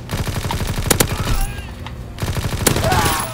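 Rapid automatic gunfire in a hardcore-mode World War II shooter game, loud close bursts of rhythmic shots with a short lull and ringing between volleys, over game noise.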